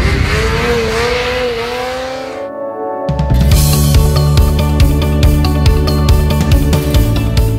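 A Polaris Switchback Assault 850 snowmobile engine winds up with a rising whine, cuts out briefly, then roars back in loud and close with a rapid, rattling rhythmic pulse.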